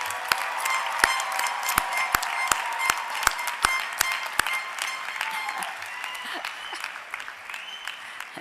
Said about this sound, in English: please let's have another round of applause for all of today's